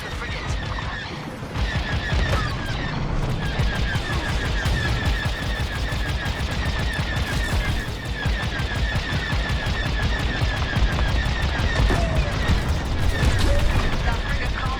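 Starfighter laser cannons in Star Wars Squadrons pour rapid, continuous fire at a frigate, with loud repeating bursts and crashing impacts throughout, and a voice heard under the barrage.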